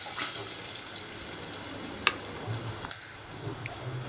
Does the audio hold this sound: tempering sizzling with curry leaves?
yes